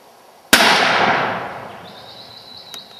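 A single 7mm Rem Mag rifle shot fired at Rusa deer in New Caledonia, a sharp loud crack followed by a long rolling echo that fades over two seconds, with a faint high whine and a small click near the end.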